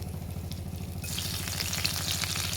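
Oil sizzles steadily as ingredients hit the pan, the hiss growing louder and brighter partway through, with a continuous low hum underneath.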